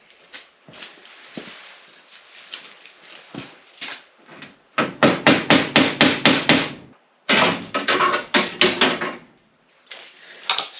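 Metal working on Ford Econoline sheet metal while removing a spot weld, with scattered taps and then two bursts of loud, rhythmic hammer-like strikes, close and harsh, separated by a short pause.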